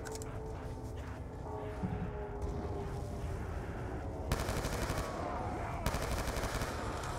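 Rapid bursts of Mustang and Sally gunfire in Black Ops 2 Zombies on Nuketown, a sustained crackle of shots with two sharper loud volleys near the end over busy game noise.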